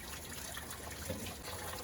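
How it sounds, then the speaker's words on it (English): Coolant drains out of a Toyota Corolla into a drain pan during a flush, making a steady, close splashing gush with no pauses. "you've got to have your drain pan underneath to catch the coolant coming out"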